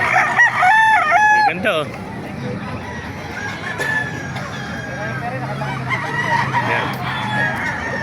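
Roosters crowing loudly and repeatedly up close amid clucking chickens in a busy outdoor pet market in Baliuag, with someone speaking Filipino over the birds.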